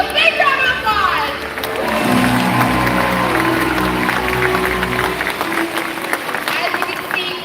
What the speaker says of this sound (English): Let's give everyone and all of you a big round of applause!